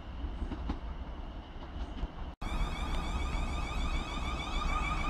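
A South West Trains unit, 444031, pulls out of Guildford station bound for London Waterloo via Woking, giving a steady loud rolling rumble with a high whine that rises after a brief break partway through.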